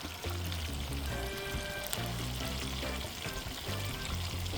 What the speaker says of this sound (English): the garlic and the hot pepper and the thyme just bring out the flavor when you're frying the fish in the oil